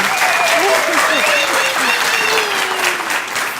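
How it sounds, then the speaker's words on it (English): Audience at an inaugural professorial lecture giving a round of applause, loud sustained clapping filling the hall while a person speaks over it. "I think another round of applause is in order."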